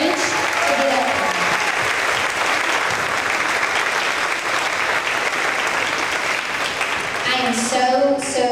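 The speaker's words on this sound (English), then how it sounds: "So I want us to give them a round of applause for having the courage to get up there." Audience applause at an elementary school third grade awards event, honoring spelling bee participants: steady, dense clapping from a crowd in an indoor room, sustained throughout, with brief speech at the start and end.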